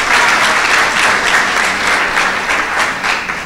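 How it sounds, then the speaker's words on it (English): At an event with New Jersey Governor Christie, an audience gives a loud, dense round of applause that stays steady and then eases slightly toward the end, with no talking over it. "Let's give her a quick round of applause."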